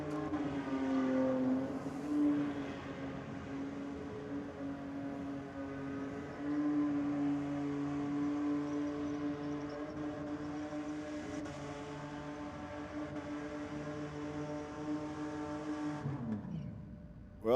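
A car holds a tyre-skid burnout at Sydney Dragway during a timed two-minute skid event: a sustained, droning engine note with a steady tonal whine from a middle distance that cuts off near the end.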